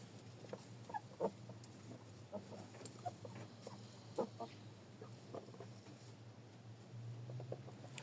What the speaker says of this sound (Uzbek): Mana tovuqlar.